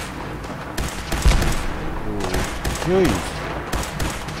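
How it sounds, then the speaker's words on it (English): Gunfire in Fallout 4 comes in bursts of sharp shots and a few booms, with a man's short exclamation over the shooting. "There must be other people firing from the settlement."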